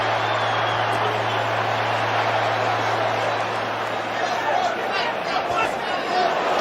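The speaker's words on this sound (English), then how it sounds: "You hear the crowd's reaction." Boxing arena crowd in round four of a Canelo Alvarez versus Billy Joe Saunders fight, reacting as a missed uppercut draws a steady, loud wash of cheering and murmuring with a low hum underneath.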